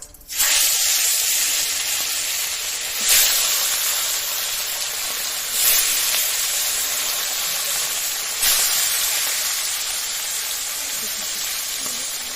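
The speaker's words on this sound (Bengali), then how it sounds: "তেলটা কিন্তু খুব ভালোভাবে গরম হয়ে গেছে। এবার এই যে মশলা দিয়ে মাখিয়ে রাখছিলাম দিয়ে দিব এই মাছ।" Spice-marinated fish frying in very hot oil gives a steady, loud sizzling hiss that runs unbroken throughout, swelling briefly in a few bursts as the pieces spit and crackle in the pan.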